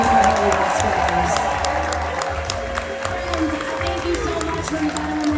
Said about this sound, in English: we have one more huge round of applause for all of our celebrities